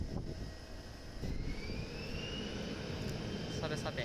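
A JAL jet airliner departs Itami Airport for Kumamoto in rainy, gusty weather. Its engine whine rises steadily in pitch over a distant, fairly faint roar.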